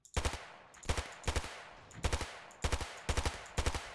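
Bursts of automatic gunfire from the Ravenfield video game crackle in rapid clusters, several volleys of short sharp shots spread across the moment, loud and close with no talking.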